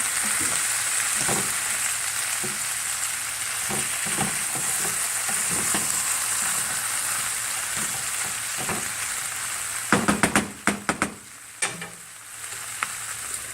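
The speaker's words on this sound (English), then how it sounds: "you want to make sure you're stirring the dish throughout the process so it doesn't burn or stick to the bottom" Chili paneer sizzles steadily in a pan on the stove, a continuous close frying hiss broken by scattered scrapes and clacks of a spoon stirring, with a brief flurry of louder clatter near the end.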